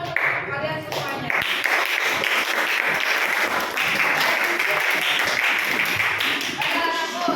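At an academic coaching session, a classroom audience applauds the presenting student group with dense, continuous, fairly loud clapping. The clapping holds steady throughout, with brief talk at the start and end.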